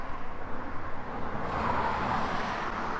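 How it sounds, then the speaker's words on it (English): Steady road traffic at a roadside stop near a national forest, a continuous broadband rush of passing vehicles that swells slightly midway, moderately loud and without talk. "Please excuse the traffic noise"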